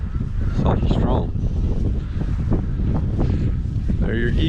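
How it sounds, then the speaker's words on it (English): Strong outdoor wind buffets the microphone in a continuous low roar while someone talks over it. "Like I said, this wind is awful tough today."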